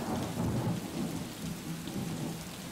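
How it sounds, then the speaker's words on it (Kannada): Heavy, steady torrential wind-driven rain in Chikkaballapura, Karnataka, roars continuously with a dense wash of noise, no voices, and a low rumble running beneath it throughout. "ಇದೀಗ ಬಿಟ್ಟು ಬಿಡದೆ ಸುರಿತಾ ಇರುವಂತಹ ಧಾರಾಕಾರ ಮಳೆಗೆ"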